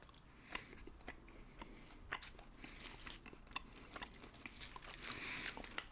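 Chewy candy, an assortment of Easter sweets, chewed close to the mic in steady sticky bites and crunches, with soft clicks and crinkles throughout and no talking.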